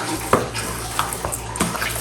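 Ground meat kneaded by hand with seasoning mix in a bowl for spaghetti, giving soft squelching, sticky slaps and wet squishes against faint background hum, a few sharper pats standing out.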